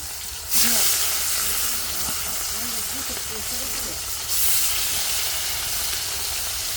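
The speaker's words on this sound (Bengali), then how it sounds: "এখানে আমি মাছ ভাজবো এটা হলো রান্না করব এজন্য তেল দিয়ে দিছি" Oil sizzles steadily in a pan on the stove, set to fry fish, a broad continuous hiss that swells at the start and again near the end, with faint low voices murmuring underneath.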